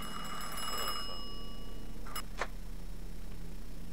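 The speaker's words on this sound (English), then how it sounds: "Is that a phone?" An old telephone rings in Mafia 2, a bright repeated bell trilling over a steady hum, followed by a couple of short faint chimes.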